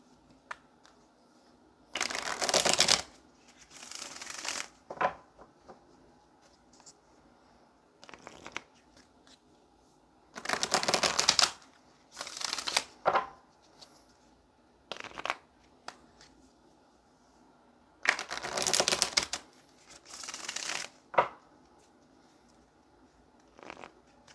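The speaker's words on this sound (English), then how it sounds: "Let's go ahead and shuffle some cards" Tarot cards shuffled on a table in repeated bursts of crisp riffling, each a second or two long with quiet pauses between, close and clear with no talking.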